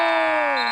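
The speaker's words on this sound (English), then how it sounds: "Just after the buzzer, but good look there from Kellogg" End-of-quarter buzzer at a high school boys basketball game between Kellogg and Grangeville, a loud, steady electronic tone held for under a second, its pitch sagging slightly toward the end.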